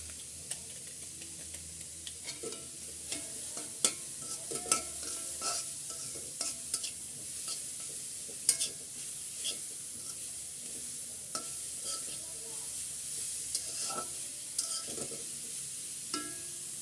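Boiled noodles, vegetables and egg are stir-fried with Maggi masala in a pan: a low steady sizzle with frequent sharp clicks and scrapes of a spatula mixing throughout.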